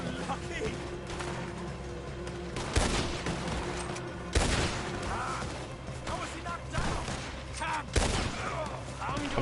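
Gunfire in Red Dead Redemption 2 comes as several loud, sharp shots at irregular intervals, with a few heavier cracks standing out, under and between ongoing talk.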